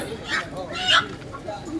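Chickens cluck briefly at a busy Vellore vegetable and chicken market, faint and close, mixed under people talking in the background and market bustle.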